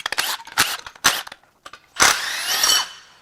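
A tool works the alternator bracket off a Ford 6.2L V8 engine in a series of short, close mechanical bursts, with brief gaps between them and a longer run at the end.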